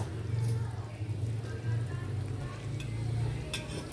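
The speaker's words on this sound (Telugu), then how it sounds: "ఇదిగండి చేప ముక్కలన్నీ వేస్తాను." Fish pieces go into a bubbling Telugu fish curry, a steady simmering sizzle with a low rumbling hum and a few sharp clinks and splashes near the end, no talking.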